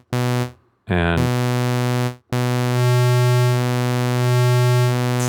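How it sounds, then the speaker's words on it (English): Analog-style synthesizer oscillator with its waveform shape set between saw and square, droning a steady bright buzzy tone in short bursts separated by brief gaps, then holding with slow pulsing changes in timbre, alone without any voice. "it sounds like this one is going between saw and square"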